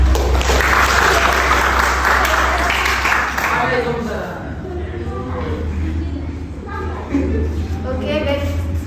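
Applause from an audience at a group presentation on Islamic religious education instructional design: a dense wash of clapping for several seconds, fading as a voice begins speaking over it.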